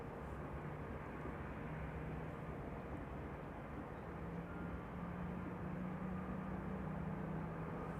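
A KLM airliner bound for Nairobi departing from Amsterdam Schiphol Airport at night, a low, steady distant engine roar with a faint rising drone, quiet and unbroken.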